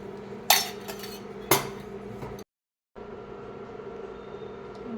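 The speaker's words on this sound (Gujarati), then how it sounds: "હવે આપણે તપેલીમાં ગળણી વડે પાણીને ગાળી લેશું" Water strained through a strainer into a pot, two sharp metallic clinks of the strainer against the vessel over a low steady hum, then a brief cut to silence before the hum resumes.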